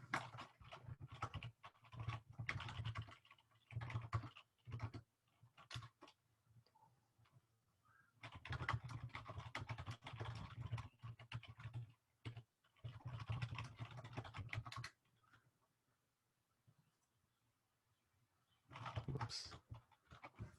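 Bursts of typing on a computer keyboard, rapid clustered key clicks in several runs separated by brief pauses, moderately close and quiet, with no talking.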